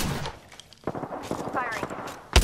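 Shotgun blasts in the Apex Legends shooter, heard as a few sharp bursts with a loud punchy shot at the end, mixed with a voice talking and busy game effects.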